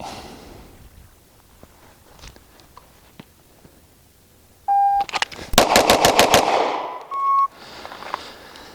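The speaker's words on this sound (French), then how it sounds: "on va faire un petit build drill comme d'habitude, 7 yards, 2 secondes, 6 coups, c'est parti." Six rapid pistol shots ring out from a Springfield Echelon during a 7-yard timed drill, a tight, loud burst framed by shot-timer beeps before and after.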